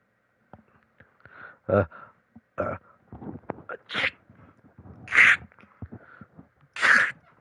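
Several sneezes from a character in the Redwall video game The Scout, sharp bursts set apart by soft breathy sounds and small clicks, the last two louder and nearer.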